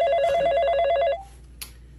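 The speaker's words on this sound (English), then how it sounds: "is nobody gonna pick up the phone?" A telephone rings with a loud warbling electronic trill for about a second, then cuts off, and a short faint click follows in the quiet.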